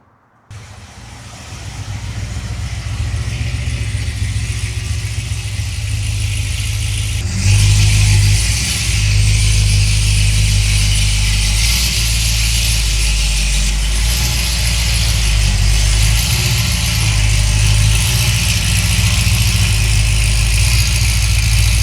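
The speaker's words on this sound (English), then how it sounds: "let me pull the Vette inside for the night" Chevrolet Corvette engine idling close by and then rising as it pulls into a garage, a loud steady rumble with a slight lift in revs partway through and no talking.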